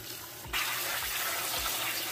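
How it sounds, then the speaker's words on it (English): Butter lettuce is washed under a kitchen tap as the water abruptly turns on and runs in a steady, loud gush into the sink. "I have some lettuce that I'm going to wash"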